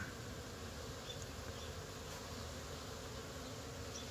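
A dense, continuous hum of many honeybees buzzing in the air nearby on an orientation flight around their hive in spring, steady and unbroken, with no talking.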